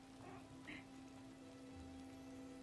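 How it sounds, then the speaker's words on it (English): Rain falls in the video game Disney Dreamlight Valley as a faint, steady patter over a low electronic hum, with a couple of brief voice sounds near the start. "the rain just adds up here, doesn't it?"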